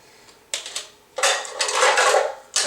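Camping cup, plate and small pans from a bug-out bag clatter and clink as they are handled, in three bursts of metallic rattling, close and fairly loud.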